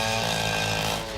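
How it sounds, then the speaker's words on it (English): A cartoon chainsaw runs with a steady, buzzing drone that holds level for about a second before easing off slightly at the end, with no talking. "Chainsaw."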